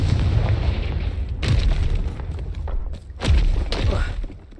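Confringo fire spell blasts in Hogwarts Legacy, a few deep booming thuds and bursts layered over rumbling game background, moderately loud with a trailing crackle.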